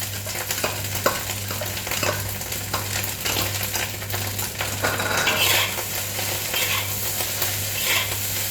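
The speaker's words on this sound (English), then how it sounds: "lastly I'm going to put in the spring onions" Chinese fried rice with spring onions being stir-fried in a pan: a steady sizzle with repeated scraping and clinking of a utensil against metal, close and continuous, with no talking.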